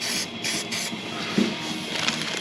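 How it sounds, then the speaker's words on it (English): Silicone lubricant sprays from an aerosol can onto a Ducati Monster S4 motorcycle part in short hissing bursts, close and fairly quiet, followed by a faint rub. "Bit of silicone lubricant spray"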